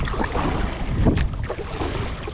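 Kayak hull scraping and knocking as it is dragged up onto a river shore on the Colorado River in Texas, with a brief thump around the middle over steady wind and water noise nearby.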